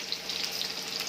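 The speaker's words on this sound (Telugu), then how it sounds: "ఇప్పుడు రైస్కు వాటర్ పెట్టేసుకున్నా" Steady rushing of water pouring into a pot, a continuous bright hiss with no voices.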